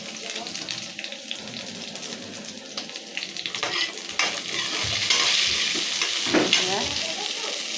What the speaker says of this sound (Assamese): এয়া আলুখিনি অলপ ফ্ৰাই হৈছে, দেখিছে ন।